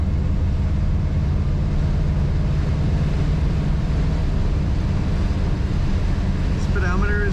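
A 1964 Buick Riviera cruises down the road, heard as a steady, dense low rumble of road and wind noise that stays even from start to finish.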